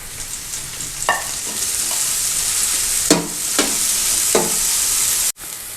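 Sliced capsicum and carrot fry in a pan for restaurant-style chicken spaghetti, giving a continuous hiss of sizzling oil with a few sharp spatula scrapes, close up, before the sound cuts off abruptly near the end.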